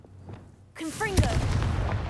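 A fire spell from the Hogwarts Legacy video game goes off as a sudden whooshing blast with a sharp crack, followed by a sustained roar. The blast comes right after a short spoken incantation.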